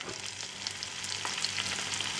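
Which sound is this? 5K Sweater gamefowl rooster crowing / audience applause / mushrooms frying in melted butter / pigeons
mushrooms frying in melted butter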